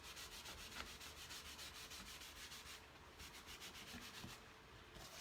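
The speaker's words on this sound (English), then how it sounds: "I'm going to do this sanding" Steady sanding, a rough back-and-forth rubbing that carries on without pause, close and fairly quiet.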